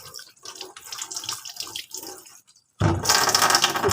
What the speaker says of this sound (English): So wash thoroughly the leaves and the stems.